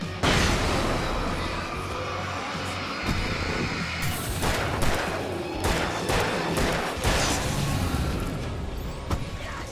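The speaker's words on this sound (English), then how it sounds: "Fucking flashbang" A flashbang grenade going off in the Alan Wake video game, a loud burst of noise amid dense clattering gunfire and crashes that continue throughout, with sharp bangs punctuating the din.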